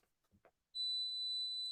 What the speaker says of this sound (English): that's the dishwasher beeping